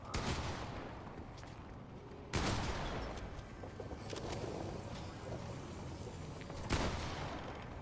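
Three loud, sharp shotgun blasts ring out in Fortnite Chapter 4 Season 4, spaced irregularly several seconds apart. Each is followed by a short decay over faint in-game background noise.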